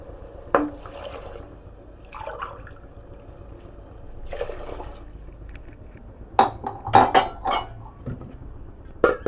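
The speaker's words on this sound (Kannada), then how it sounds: "ಇದರಲ್ಲಿ 3 ಲೋಟ ನೀರು ಹಾಕ್ತೀನಿ." Water poured from a glass into a pot of washed rice, three separate splashing pours in short bursts up close, mixed with clinks of metal vessels and dishes.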